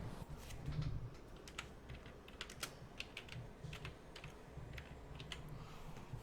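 Clicks of a computer keyboard as text is typed into a customer record: scattered, crisp keystrokes in short bursts, close and fairly quiet over a low steady room hum, with no talk.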